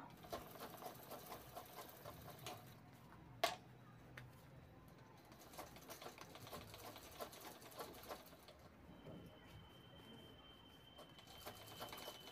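Sewing machine stitching a fabric piece onto a zipper while making a handbag from leftover blouse cloth: a quiet, steady rapid clatter of the needle running continuously, with a single sharp click partway through.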